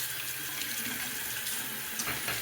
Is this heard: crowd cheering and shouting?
no